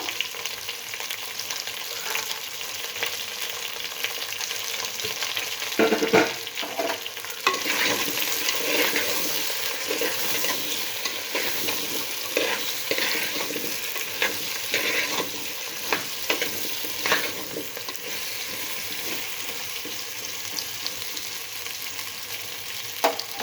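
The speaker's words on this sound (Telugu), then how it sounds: "మూత పెట్టేసి మగ్గబెట్టుకున్నాము." Pumpkin pieces for a sweet cook in a covered pan over medium-low heat, giving a steady, close frying sizzle with soft stirring scrapes throughout and no talking.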